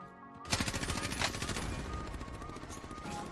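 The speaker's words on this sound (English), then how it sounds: "He's shooting me!" Rapid automatic gunfire in the video game Warzone bursts in loud and close after a quiet start, a dense stream of sharp shots rattling on steadily to the end.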